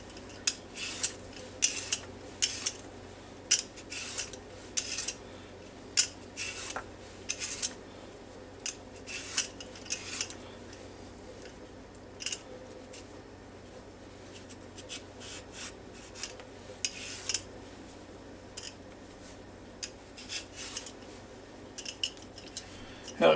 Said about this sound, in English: Okay, now first thing we'll do is peel these potatoes here.